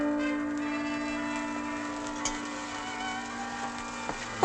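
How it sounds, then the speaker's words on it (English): A ship's bell rings from a distance aboard a sailing vessel at sea, a steady faint tone held under low ambient creaking and a few soft knocks. "What's that bell"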